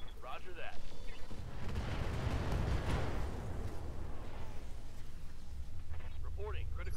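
High explosive artillery fire in the Roguetech mech game, a sustained heavy rumbling barrage with dense booming impacts that swells and fades over several seconds, with voices speaking briefly at the start and end.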